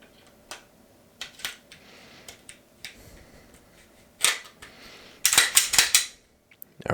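Glock 19 barrel and slide fitted onto the pistol frame, giving light metallic clicks and taps, then a louder cluster of sharp, close snaps near the end.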